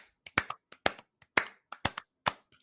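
Separate hand claps ring out in an uneven run, about nine to ten sharp smacks over a few seconds with short silent gaps between them, close and fairly loud with no voices.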